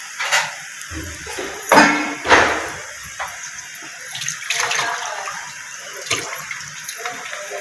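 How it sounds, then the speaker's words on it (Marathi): Water poured into a cooking pot of wild aakur greens in a Konkan village kitchen, a few splashing gushes and trickles with pot clatter between, close and fairly loud. "पाणी टाका."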